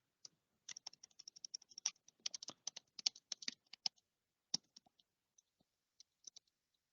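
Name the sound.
typing a message on a computer keyboard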